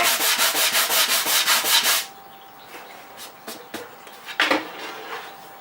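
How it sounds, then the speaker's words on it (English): Sandpaper rubs back and forth on a wooden tool chest in quick, even rhythmic strokes for about two seconds. A few scattered scrapes and light taps follow more quietly. "let me just sand this up here"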